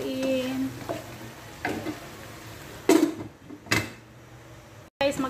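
Shrimp and radish stirred in a pot for sinigang, a soft sizzle with a few knocks and scrapes of the spoon, close, fairly quiet and uneven, ending in a brief gap.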